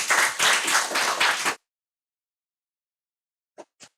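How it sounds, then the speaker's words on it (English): An audience applauding a debate candidate at a school event, a dense burst of clapping for about a second and a half that cuts off abruptly, followed by silence and two faint isolated claps. "A clap for the candidate Victor."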